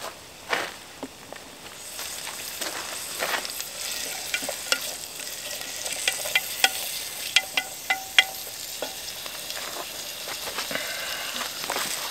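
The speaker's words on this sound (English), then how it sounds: "I want the onion and the carrots to get really really soft so let's put that in" Onion and carrots frying in oil in a Swedish army M44 mess kit outdoors, a steady soft sizzle with scattered crackles and pops and occasional stirring scrapes, close and alone.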